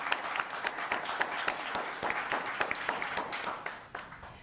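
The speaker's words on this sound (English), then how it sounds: "Let's give a round of applause." A small audience at a public study session meeting gives a round of applause, a sparse, fairly quiet spatter of distinct hand claps with an uneven rhythm.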